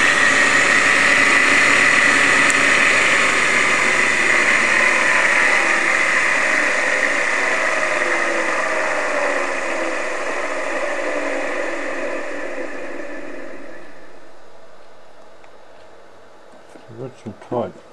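Two-phase generator and exciter test arrangement running, its motor having tight-fitting bearings, giving a loud, steady broadband hum and whine that slowly winds down and fades, ending with a few faint knocks.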